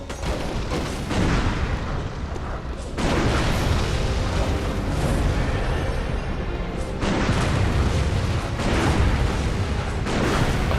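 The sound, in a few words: gun shot at point blank, from the video game Bloodborne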